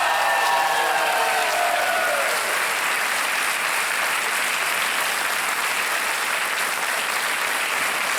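A studio audience on KBC, the Hindi quiz show, claps loudly after a contestant wins 3,20,000 rupees. The applause is sustained and even, with a brief tonal music sting fading early under it.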